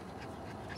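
A dog pants steadily and fairly close, quick breathy rhythm without any talk.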